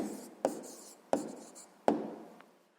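A pen writing an answer by hand on paper during a sixth-grade maths exercise, three quiet scratchy strokes spaced about two-thirds of a second apart, close and alone with no talk.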